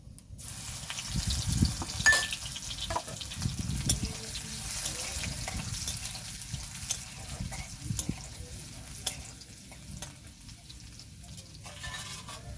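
Garlic paste and five-spice hit hot oil for a village-style mourala fish teljhal, making a continuous close crackling sizzle with stirring scrapes and soft wet splutters throughout.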